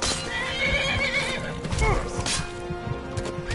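A horse whinnies loudly amid clopping hooves and scuffling combat sounds in the video game Skyrim, close and busy, with no voice present.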